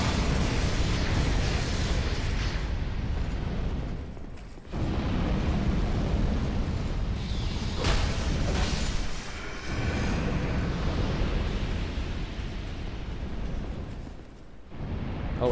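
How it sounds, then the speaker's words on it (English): Repeated explosions in Dark Souls 2, loud booming bursts over a constant thick rumble, broken by brief near-silent gaps before the blasts resume. "it looks like there's a lot of explosions going around"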